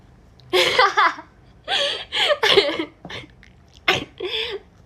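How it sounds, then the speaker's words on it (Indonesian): Several short bursts of coughing and throat-clearing vocal sounds, close and fairly loud, spaced out with brief pauses between them. "Aduh, batuk."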